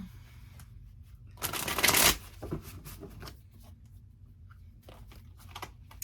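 A burst of papery oracle card shuffling lasting under a second, followed by a few softer riffles and taps in a quiet room.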